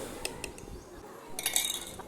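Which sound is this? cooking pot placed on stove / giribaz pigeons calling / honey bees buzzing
cooking pot placed on stove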